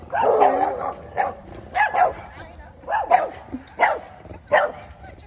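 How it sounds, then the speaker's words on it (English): Several dogs bark in short, repeated bursts close by on a sunny September day outdoors, the yips and barks spaced irregularly with brief quiet gaps between them. "There's some dogs here."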